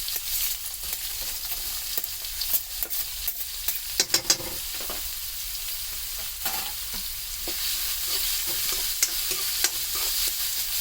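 Sliced onions and curry leaves sizzle steadily in hot oil in a pan, with frequent scrapes and taps of a spatula stirring through the crackling fry.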